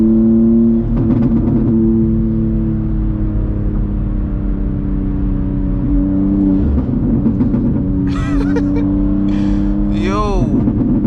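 A loud BMW M2 engine drones steadily while driving through New York City traffic, its low harmonic tone shifting as it revs, with brief higher whines and other sounds near the end.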